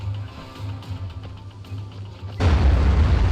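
A bomb blows up in the video game Dying Light: after a quiet stretch of low game ambience, a single loud, close explosion hits suddenly and its roaring blast fills the rest of the moment.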